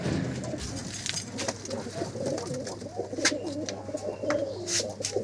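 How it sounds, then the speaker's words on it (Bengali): A Jiriya pigeon in a loft coos in soft, repeated throaty phrases up close. Faint chirps and loft rustling sound behind it. "এই যে এটা একটা জিরিয়া পায়রা"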